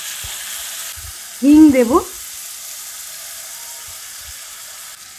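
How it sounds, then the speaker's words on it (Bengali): Oil hisses steadily in a pan while frying for a Bengali water spinach (kolmi shak) bharta, a soft continuous sizzle with someone speaking briefly partway through. "একটু ভেজে নেব।"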